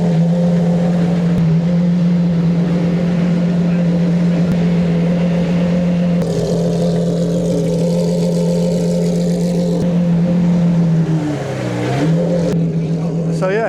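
A Gordon Murray T50 and a road-legal Pagani Zonda R roll out at a Silverstone supercar event, their engines droning loud and close in a steady hum that dips briefly in pitch near the end before climbing again.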